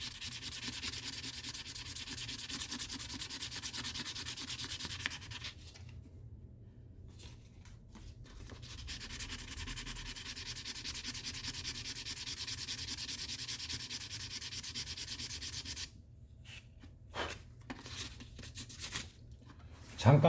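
Fine sandpaper rubs steadily along a leather edge in a leather workshop, a continuous close scratchy sanding broken by two short pauses.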